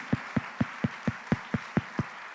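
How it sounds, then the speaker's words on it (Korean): A church congregation at a Friday late-night prayer meeting claps in unison, about ten even, rhythmic claps in steady time, moderately loud and slightly reverberant with no talking over them. "우리 하나님께 영광의 박수를 한번 돌릴까요?"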